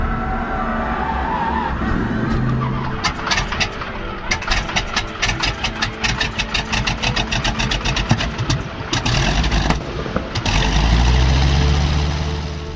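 A T6 aircraft's radial propeller engine cranks with a rapid train of popping clicks and coughs, then catches and settles into a loud, steady rumbling idle nearby.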